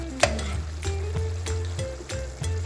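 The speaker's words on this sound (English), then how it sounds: "You just want that meat to braise on down" Taco meat braising in a pan with a bay leaf, a steady sizzle and fry, with a few metal spoon scrapes and clinks as it is stirred, close and moderately quiet.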